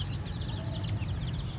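Chickens cluck nearby in a backyard coop with large roosters and small chicks, soft repeated warbling clucks over a low steady background hum.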